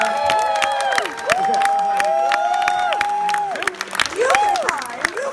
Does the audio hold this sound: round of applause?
yes